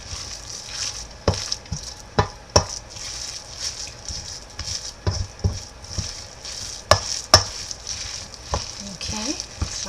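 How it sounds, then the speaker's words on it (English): Stuffing ingredients for Hungarian roasted Cornish game hens are stirred in a bowl, with repeated sharp spoon clicks and scrapes over a soft, wet hiss, irregular and close. "Just going to mix that well."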